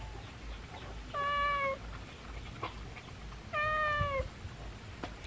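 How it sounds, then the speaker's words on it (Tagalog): A fat cat on a farm meows twice, two clear drawn-out calls spaced a couple of seconds apart over a faint steady background hum. "Ang taba ng pusa na ito eh."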